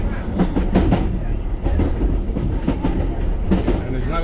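A heritage London Underground train running on the Heathrow loop rumbles steadily with rhythmic wheel clatter over rail joints, loud and close throughout, with no speech.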